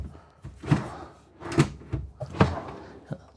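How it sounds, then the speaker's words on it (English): Cabinet drawers in the living area of a 2024 Renegade Classic 38CSB motorhome being pulled out and handled: several soft thumps and slides spread across a few seconds, close by, with no talk. "this first compartment here, it's got some nice pull-out drawers"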